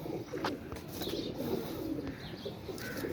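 A pigeon coos softly in low, repeated throaty notes, with faint wing rustles and a few small chirps nearby.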